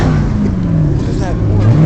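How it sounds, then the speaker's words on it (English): Supercharged car engine held at a steady rev, with a high supercharger whine blended into the engine drone and some pitch shifts. Loud and close, with people talking over it. "That's the supercharger mixed in with the engine."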